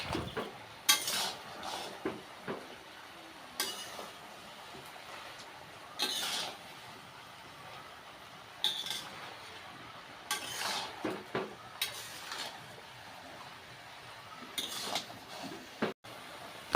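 A spoon stirs and scrapes salt and turmeric into a jujube pickle mixture in a bowl, with scattered soft clinks and scrapes separated by quiet pauses, close and fairly faint.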